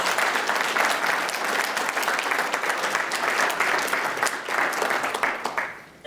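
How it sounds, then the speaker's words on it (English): Local business owners at a village State of the Village address receive a round of applause from the audience. The clapping is full and sustained for several seconds, then thins out toward the end. "Round of applause."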